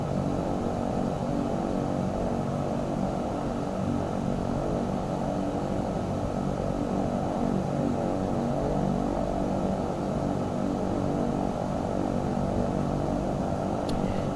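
Steady, continuous turboprop drone of an EMB-110P1 twin-engine airplane in the X-Plane flight simulator, a loud, even engine roar holding throughout without any talk.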